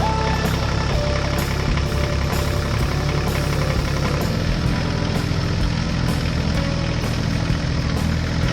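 Steady, loud engine rumble of a cartoon blue tractor running continuously with an even idling drone and no pauses.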